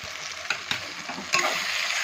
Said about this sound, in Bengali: আদা রসুনটা ভাজা হয়ে আসছে।